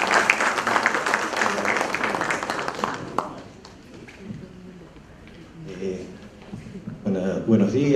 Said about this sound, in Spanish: Fuertes los aplausos para el abogado Gilberto Mendoza del Maestro.